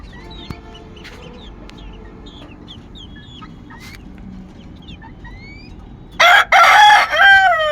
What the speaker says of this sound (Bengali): আমার কাদাকনাথ মুরগি,